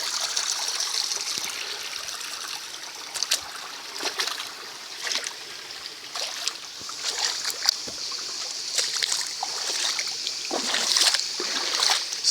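Water flowing down rocks at the Serrinha waterfall in Carmo do Cajuru, a steady broadband rush with scattered splashes and trickles, close and continuous throughout.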